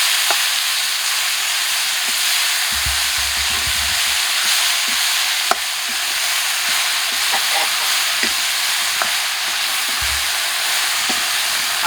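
Leafy greens frying in a pan with onion, garlic and dried chili, a steady loud sizzle with occasional stirring clinks and scrapes, no talking.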